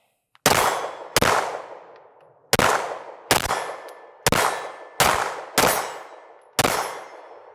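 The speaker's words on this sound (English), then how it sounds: "see if you hit that gong" Pistol rounds from a Springfield Echelon strike a distant steel gong target, giving eight sharp metallic clangs at uneven intervals, each ringing briefly and fading, with no talking.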